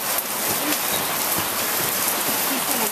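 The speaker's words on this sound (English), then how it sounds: "It's pouring." Heavy rain pours down outdoors in a loud, dense, unbroken hiss of drops, with faint voices audible beneath it.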